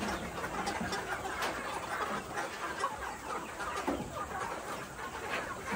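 Soft clucking from a flock of chickens at a village longhouse where chickens are sold, faint and distant, with scattered short calls over a steady outdoor background.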